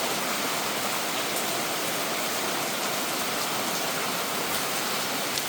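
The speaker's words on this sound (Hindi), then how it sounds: "इतनी तेज़ बारिश हो रही है" Heavy rain pours down steadily at a house under construction, a dense, loud, unbroken hiss of water drumming on surfaces with no break or voices.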